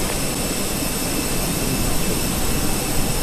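Airbus A320 jet engine spooling during start-up in the Fenix flight simulator, a loud, continuous broadband roar with a steady whine and no pauses.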